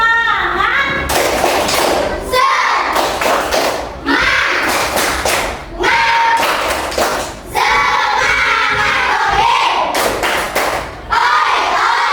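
A classroom of children claps out rhythmic spirit clapping, tepuk semangat, in bursts of quick, loud claps and thumps. Several bursts are separated by brief pauses, and children's voices chant along between and over the claps.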